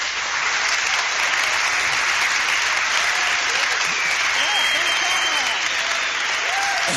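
Applause from U.S. teams carried over a video conference link, a steady wash of clapping that holds at even loudness for several seconds with some speech mixed in underneath.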